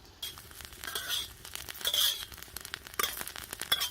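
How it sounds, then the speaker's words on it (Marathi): Green chillies dry-roasting in a pan for a spicy village-style dish, heard as scraping stirs, light sizzling and occasional utensil clinks in an irregular, close rhythm. "पहिला मिरच्या नाही चाट चाट भाजून घ्या"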